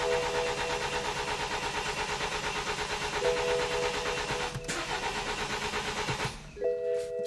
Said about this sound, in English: the engine cranks, but it doesn't start